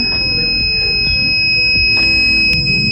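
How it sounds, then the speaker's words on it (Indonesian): An IoT sensor circuit's buzzer sounds continuously during an error state, a steady high tone running unbroken through the whole stretch with a faint low background of room noise and no speech. "kedua lampu menyala secara bersamaan dan buzzer yang terus-menerus menyala"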